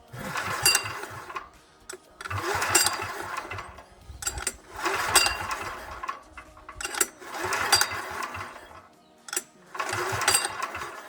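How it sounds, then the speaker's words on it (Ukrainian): A 178F diesel engine on a Kentavr walk-behind motoblock turning over on its starter with the compression released, in five or six rhythmic cranking bursts separated by short pauses, loud and close. "натиснув до компресора, трохи прокачаю його з стартера"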